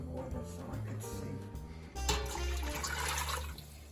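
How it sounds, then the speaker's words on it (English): Water pours into a pot in a steady splashing stream for pickling and preserving, growing fuller and louder partway through, up close without speech. "Now put the water so I can see."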